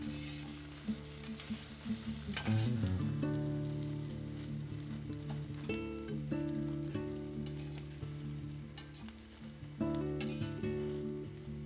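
Beaten egg for tamagoyaki fries in a pan with a continuous close sizzle, with light scraping and tapping as it is worked, and soft music underneath.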